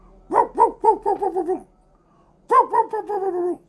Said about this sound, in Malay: Okay, kita lalu depan anjing, depan rumah ada anjing kan.